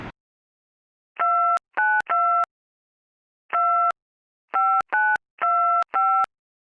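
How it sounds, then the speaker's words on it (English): Touch-tone keypad beeps dial out on a phone, seven short dual-tone presses in uneven groups with gaps between, clear and isolated in silence after a brief click at the start. "So I now need to call them back and we need to get this phone call out"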